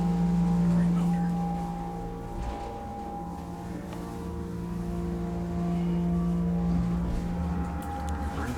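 A 1960s Dover hydraulic elevator's motor hums steadily as the car rises, a sustained tonal drone with a low pump rumble running throughout, with faint talk in the background.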